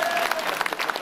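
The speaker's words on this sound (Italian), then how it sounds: "Applauso." Enthusiastic audience applause at an accordion revival gathering in Monghidoro, dense and loud from close by, with a few voices mixed into the burst of clapping.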